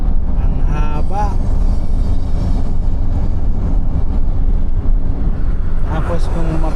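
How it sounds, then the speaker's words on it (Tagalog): Several trains passing each other near a mountain at Cinnamon Ridge, heard as a loud continuous rumble and rolling clatter close by, with a person talking over it and occasional horn-like tones. "Grabe, ang daming tren, nagsasalubungan sila."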